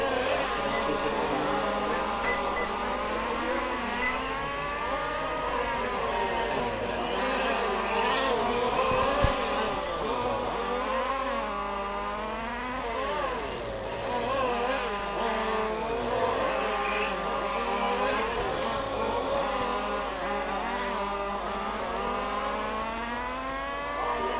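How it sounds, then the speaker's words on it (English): RC formula race cars at a model racing event in Groningen, with a continuous high-pitched whine of small electric motors rising and falling as the cars lap the track, steady and fairly loud throughout. "let's pick up Milan in car number 2 so that we can find him"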